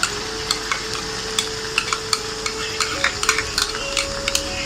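Spoon stirring a yogurt and cream mixture into karahi gosht in the pot, with repeated scraping clinks and soft wet sizzle, a steady tone humming underneath, no voices.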